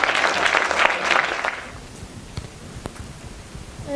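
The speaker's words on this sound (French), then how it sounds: "Mais je crois qu'on peut les applaudir très très fort." Applause for children at a Francophonie celebration, a dense crowd clapping loudly for about a second and a half before fading quickly into a quiet room with a few scattered claps.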